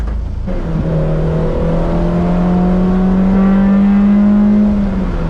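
A home-built Honda Civic Type R swap car is driven hard, its engine note rising in a steady, loud drone heard from inside the cabin, with no talk over it.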